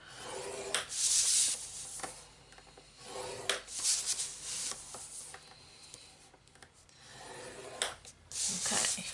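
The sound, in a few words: scoring a sheet of card stock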